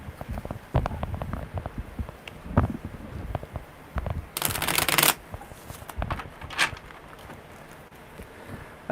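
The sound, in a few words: tarot cards being shuffled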